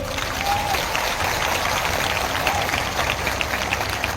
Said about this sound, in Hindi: थोड़ा जोर से ताली मारो तो तिपरासा लोग।